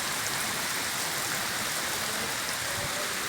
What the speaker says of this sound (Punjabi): ਬਹੁਤ ਜ਼ਿਆਦਾ ਤੇਜ਼ ਮੀਂਹ ਹੈ ਬਹੁਤ ਹੱਦ ਤੋਂ ਜ਼ਿਆਦਾ ਤੇਜ਼ ਮੀਂਹ ਹੁੰਦਾ